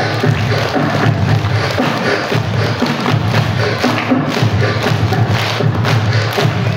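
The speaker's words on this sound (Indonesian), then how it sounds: "Yuk, biar semangat, tepuk tangan yuk" Schoolchildren at a storytelling event clap together in a lively, sustained burst, the claps thudding and crowded with excited voices mixed in, fairly loud and close throughout.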